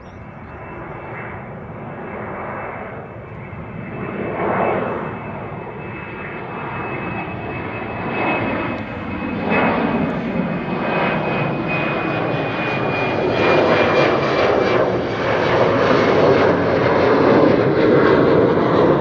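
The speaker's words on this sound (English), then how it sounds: "Delta A330 is approaching." A Delta Air Lines Airbus A330 on approach to Amsterdam Schiphol, its steady engine roar building gradually and growing louder and fuller toward the end, with a thin high whine running through it.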